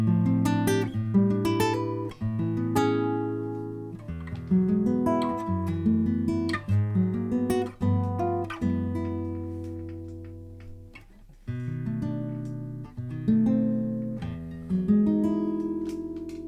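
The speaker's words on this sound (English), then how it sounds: "When I think of what a classical guitar should sound like" A Yamaha NCX5 nylon-string classical guitar plays a fingerpicked passage with ringing bass notes and chords, alone and close, with short pauses between phrases.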